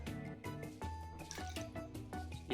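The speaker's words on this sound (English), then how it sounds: "Yeah, it spills a little bit of water." Soft, irregular splashing and trickling of water spilling from a bottle, with small drips and gurgles, quiet and close.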